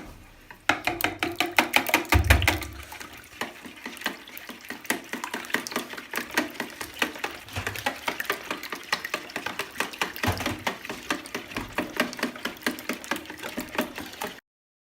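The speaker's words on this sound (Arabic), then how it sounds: "حنا خلطنا البيضات مزيان" Eggs being whisked for a date and walnut Eid cake, a fast, steady rhythm of close clicking beats from the whisk against the bowl that runs without a break, with no talk.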